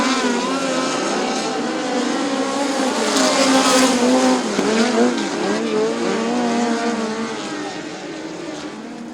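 Midget race cars roar around the dirt oval at Bubba Raceway Park during a POWRi National Midget League event, several engines layered and rising and falling in pitch as they pass close by, loud and continuous.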